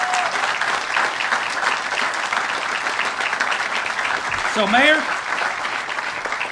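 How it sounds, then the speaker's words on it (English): A crowd at a Kentucky electric vehicle battery factory opening applauds firefighters: steady, full clapping throughout, with a voice briefly heard over it. "Let's give them a big round of applause for what they do."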